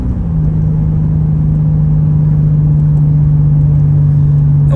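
A Lexus ISF's engine booms on a gear change, a deep, loud, steady drone with heavy low rumble held for several seconds from inside the car, no talking.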